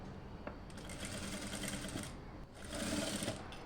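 Sewing machine stitching a frock's lining to its frills for a child's dress, running steadily in two bursts with a brief pause between, close and fairly loud.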